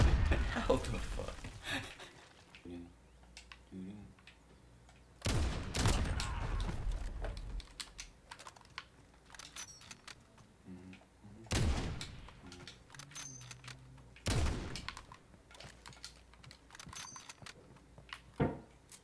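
Bursts of gunfire crack through a one-on-one video game match among friends, arriving in sharp loud volleys separated by quieter gaps, with some voices talking in the background.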